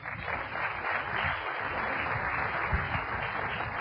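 Audience applause at an evening event for a co-host being welcomed on stage, steady dense clapping throughout at moderate level.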